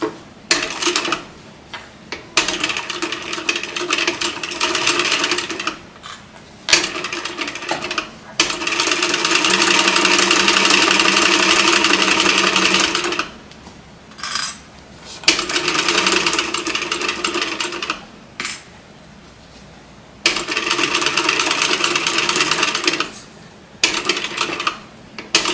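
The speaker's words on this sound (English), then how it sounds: "Okay, so we're going to sew this closed." A domestic sewing machine runs in several bursts, stitching a seam closed on a stuffed fabric cat toy, with a long steady run in the middle and short pauses between stitching passes.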